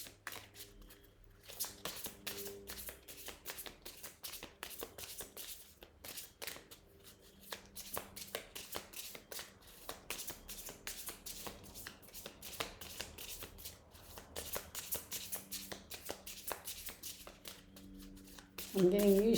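A deck of slippery guidance cards being shuffled by hand, a steady run of quick flicking riffles close to the mic, with a voice speaking over parts of it.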